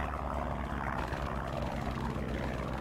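A plane's engine in the World War II game Battleground Europe, a loud, continuous droning roar holding steady throughout with no break or speech.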